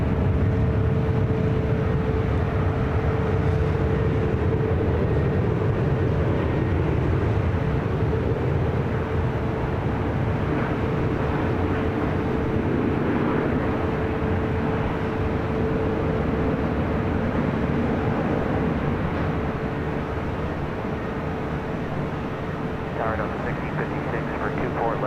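Alaska SkyWest airliner at LAX, a continuous rumbling engine roar that slowly fades, with a voice talking over it throughout.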